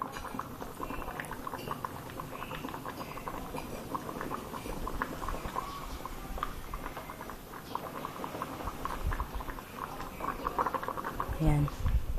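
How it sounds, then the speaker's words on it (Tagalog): A pot of water boils vigorously with cassava suman wrapped in banana leaves cooking in it, continuous bubbling and popping close by, steady throughout with a few louder bursts toward the end. "Ayan, kumukulo na"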